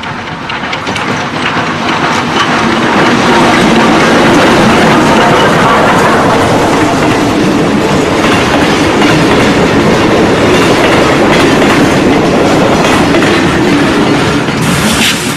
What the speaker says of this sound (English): will be among the last to witness the great steam engines on a full run